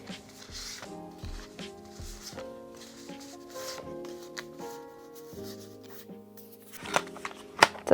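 Taylor Swift merch photo cards being handled and shuffled close by, a series of soft papery slides and flicks with a few sharper taps near the end.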